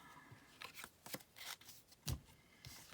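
A tarot card deck handled and shuffled up close, with a string of soft riffling bursts and slaps at irregular intervals, one heavier thump near the end; no talking.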